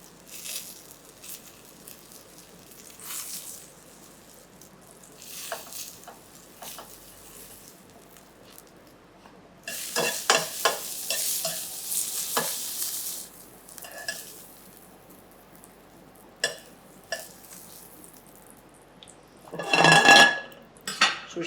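Turnips frying in a pan on a kitchen stove while being stirred, with a soft sizzle, clinks and scrapes of utensils against the pan, and a louder burst of sizzling clatter near the end.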